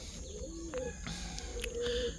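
Low, throaty pigeon coos roll on close by in a steady ambient hum, with a few faint chirps breaking in.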